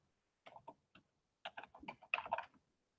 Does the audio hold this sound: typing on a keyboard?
yes